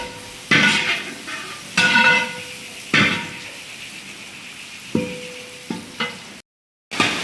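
Onions fry with white and green pepper while being stirred in a pan, a steady sizzle broken by repeated scraping strokes and clinks of the spoon against the vessel, close and fairly quiet.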